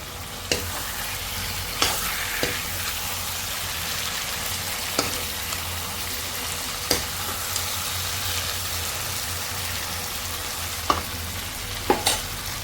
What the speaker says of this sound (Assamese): এয়া ভাজিয়ে আছোঁ।